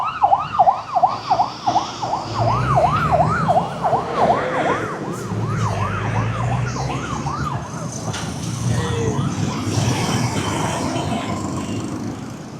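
An ambulance siren wails through city traffic in Kampala, Uganda, its rising and falling cycles loud and close for about eight seconds before fading under the steady rumble of street noise.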